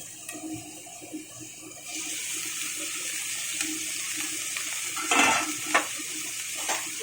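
Onion and garlic frying in very hot oil in a covered pan, a steady close sizzle that thickens after the first two seconds, with a few louder spattering bursts toward the end.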